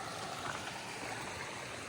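Creek water flows steadily beside a trail crossing with a double log bridge, a constant broadband rush and trickle at moderate distance with no voices.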